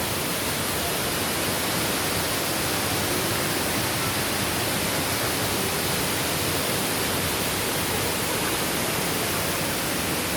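Wangkan Lueang waterfall pours steadily, a dense, unbroken broadband roar of falling water held at an even, loud level throughout, with no voices over it.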